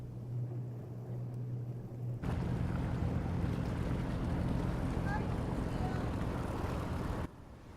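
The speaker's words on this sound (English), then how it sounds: "We could hear a faint noise in the distance. An engine." A faint, distant boat engine drones low and steady off the coast at Hornstrandir, Iceland, heard clearly at first before broadband wind and surf noise swamps it for most of the clip.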